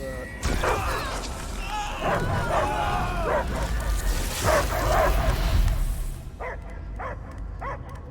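Repeated dog barks and yelps mixed with video game sound effects and a voice, from Guardians of the Galaxy gameplay, followed by a few short, sharper barks near the end.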